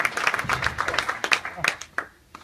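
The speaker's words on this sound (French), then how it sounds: "on peut applaudir Guillaume" Scattered clapping from a meetup audience applauding a speaker, a modest handful of hands with uneven rhythm that thins out and fades after about two seconds, with some voices murmuring underneath.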